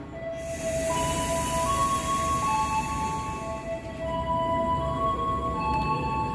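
The King Anggrek passenger train, running Gambir to Surabaya Pasar Turi, passes straight through Cikampek station with a steady loud rumble of rolling wheels and sustained metallic squealing tones throughout, up close with no talk.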